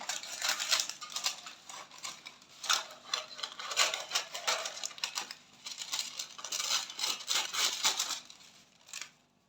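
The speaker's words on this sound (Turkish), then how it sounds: "Diğer kenardaki yağlı kağıdımı da kesiyorum." Scissors cutting baking parchment paper close by, a continuous run of crisp snips and papery crackles rising and falling in bursts, then fading out.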